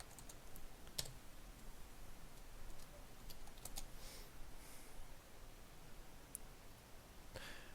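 Typing on a computer keyboard to enter a search in a web browser: sparse, faint key clicks at an irregular pace against steady background hiss, with no talking.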